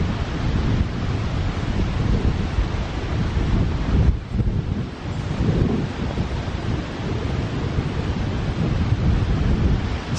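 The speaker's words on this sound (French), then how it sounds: "Il y a encore des grosses rafales là." Strong storm gusts batter a garden during storm Miguel, a loud continuous roar of wind buffeting the microphone that briefly dips midway before surging again.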